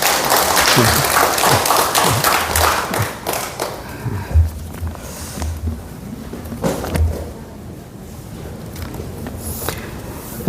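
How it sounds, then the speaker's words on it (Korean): A congregation claps loudly indoors at a church service, the applause thinning out and fading over several seconds, with a few scattered thumps. "감사의 박수 한번 크게 칩시다."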